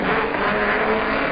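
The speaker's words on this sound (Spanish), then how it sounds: "Ahí está cruzando el auto" A race car roars past at speed during an auto race, its engine a loud, broad, sustained blare with a slight tire squeal, filling the whole moment without any voices.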